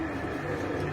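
Red pigeons kept for sale in Baghdad coo softly in a steady low murmur close by, with no clear breaks over the one second.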